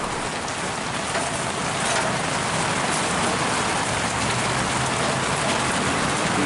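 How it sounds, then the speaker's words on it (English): A torrential downpour in Southeast Texas pounds down steadily outdoors, a dense, loud, continuous hiss of heavy rain with no pauses. "So as you can see, it's a torrential downpour"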